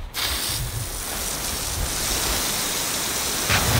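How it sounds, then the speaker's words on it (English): Water pours steadily into a sprayer tank, a continuous hissing, splashing rush that stays loud and even throughout, with no talking. "fill her up with water"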